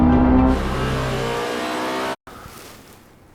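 A Lamborghini Revuelto and a Ferrari SF90 launch in a drag race, their engines roaring loudly and building for about two seconds before cutting off sharply, followed by quieter rushing road and wind noise.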